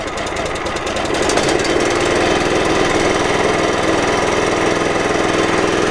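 A Victory MDWC1500 13.5 HP gas-powered wood chipper engine runs loud and close, its rapid chugging settling into a steady, even drone as it warms up, with no talking.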